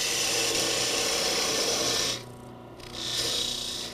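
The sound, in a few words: parting a wooden Christmas ornament on a wood lathe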